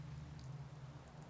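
Steady rain in the video game Fourville hisses evenly over a low hum, soft and continuous with no voices.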